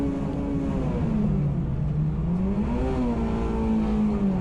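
A Honda K20-engined front-wheel-drive race car at full throttle, a loud sustained rasping engine note that dips and climbs as it works through the revs, close and continuous with no talk.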